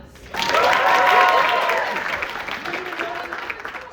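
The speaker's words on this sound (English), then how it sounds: "Can I get a round of applause?" A round of applause breaks out at a film press junket, clapping and whoops swelling quickly after a brief pause, then thinning as cheering voices and laughter carry over it.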